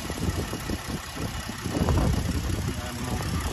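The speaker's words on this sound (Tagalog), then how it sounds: "Maganda pa yung tunog ng makina." A Ford F-150 pickup with an EcoBoost engine idles at a car auction in Canada, giving a steady, moderately loud rumble with no talk over it.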